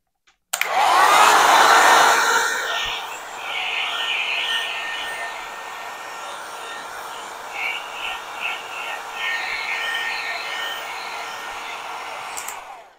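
A heating tool blows hot air onto a Samsung Galaxy S9 phone before a battery replacement, giving a loud steady whooshing roar that starts abruptly, eases slightly after a couple of seconds and then runs on continuously.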